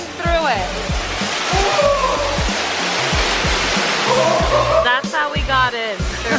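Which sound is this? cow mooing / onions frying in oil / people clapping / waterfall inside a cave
waterfall inside a cave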